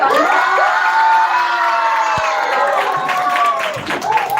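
An audience at a children's literature festival school round claps and cheers loudly, with shouting children and whoops layered over steady applause throughout.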